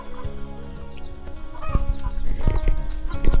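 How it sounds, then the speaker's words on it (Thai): Chickens cluck in a coop on a rural Thai or Lao farm. The clucking is close and busy, with irregular scratching and knocking sounds that grow louder toward the end. "นี่คอกไก่เพิ่นนี่"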